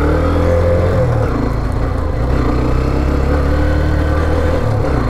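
A 125cc motorcycle engine, an Xtreme 125 or Raider 125, runs steadily nearby with a loud, even mid-pitched rumble and throb that holds level throughout, with no voices over it.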